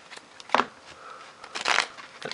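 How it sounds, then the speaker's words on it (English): Someone shuffles a deck of trading cards for a children's card game by hand, giving close, crisp bursts of riffling and card slaps in quick, uneven rhythm. "when people shuffle your deck like this"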